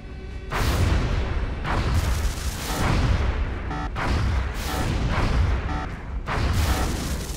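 Heavy booming gunshots in XCOM Long War fire in a rough rhythm, about six or seven loud blasts each trailing into a rumbling echo, with no voices.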